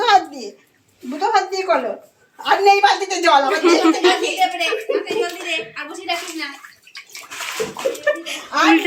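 A small child plays with water in a bathtub, with splashing and sloshing under nearly continuous talk from an adult and the child.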